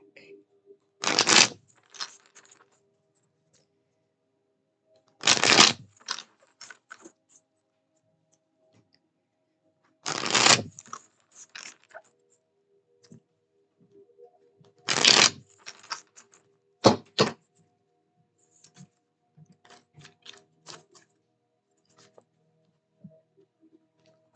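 A deck of tarot cards being shuffled in five brisk bursts spaced a few seconds apart, each a crisp riffling flutter, with light taps and card handling between them in an otherwise quiet room.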